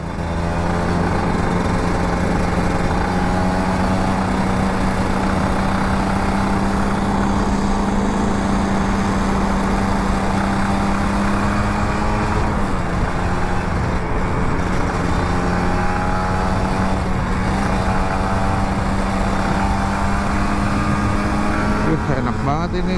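An older Kawasaki Ninja RR 150 motorcycle, freshly serviced, drones loudly and steadily close up, its engine pitch rising and dipping slightly as the throttle shifts.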